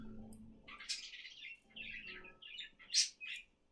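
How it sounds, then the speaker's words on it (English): A pet bird chirps and squawks in short, bright bursts indoors, several separate calls with brief pauses, the loudest near the end, moderately close with no talking. "Guys, you don't know how much I hate this freaking bird."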